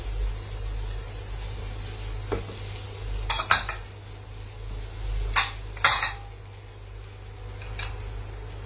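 Masala sizzles as it fries in a pan, a soft steady hiss under a low background hum, broken by a few sharp clinks of a utensil against the pan near the middle.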